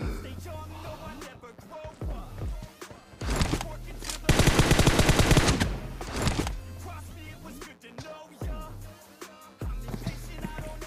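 M416 rifle fire in a team deathmatch shooter game, with scattered single shots and short bursts and one loud sustained automatic burst in the middle, alongside other game sounds.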